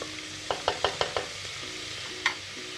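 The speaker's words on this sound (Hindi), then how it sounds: "इसे भी चने के साथ थोड़ा सा हिला लेना है।" Spiced masala being stirred together with black chickpeas in a pan, with a run of five scraping stir strokes in quick succession followed by a single later stroke, over a faint background hum.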